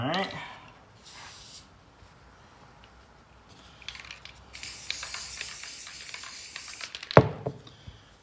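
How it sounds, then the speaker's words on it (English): Short bursts of spray adhesive hiss in and out onto soundproofing ceiling panels, several separate sprays, close by, with a sharp knock near the end. "I'm gonna put the spray adhesive there."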